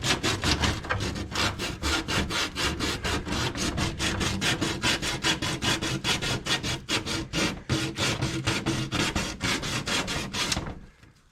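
Hand sanding the edge of a custom Segway windshield with 120-grit sandpaper: steady rapid back-and-forth scratchy strokes, close and loud, continuing for about ten seconds before stopping.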